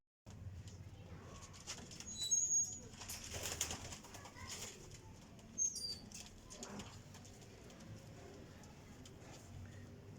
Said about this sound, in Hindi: बड़ा शानदार कबूतर है यार।